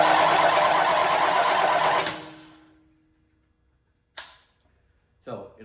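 Engine of a 1972 GMC Jimmy cranking and trying to fire, a loud churning burst for about two seconds that stops abruptly, followed by quiet and two short clunks.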